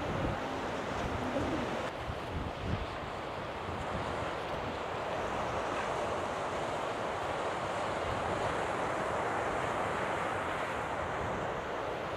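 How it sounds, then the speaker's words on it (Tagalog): Strong ocean waves crash and surge continuously against the coastal rocks at Canal Rocks near Perth, a loud, dense roar of surf mixed with wind buffeting the microphone, with no pauses throughout. "Lakas ng alon, oh."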